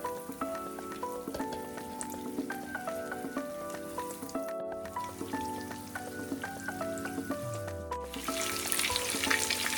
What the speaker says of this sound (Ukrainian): і відправляю смажитись котлетки. 2-3 хвилини з кожного боку, як звичайні.